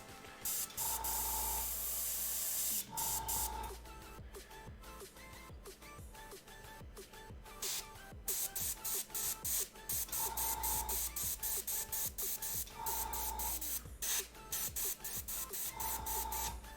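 An airbrush sprays paint onto a sculpted dwarven hunter bust in repeated, loud bursts of airy hiss that start and stop at irregular intervals, with steady mechanical noise from the compressor underneath.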